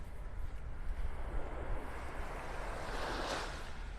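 Small ocean waves breaking on the shoreline of Vanderbilt Beach in North Naples, Florida, a steady soft wash of surf with light wind, swelling slightly toward the end, with no voices.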